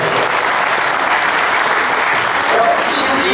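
Dense audience applause at a youth-employment conference, loud and steady throughout this short stretch, with no voices standing out above the clapping.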